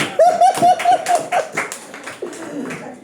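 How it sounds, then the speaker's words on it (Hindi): A crowd claps in a burst of overlapping hand claps, with a few voices and whoops mixed in, fairly loud and close. "जोर से आपके लिए ताली बजाए।"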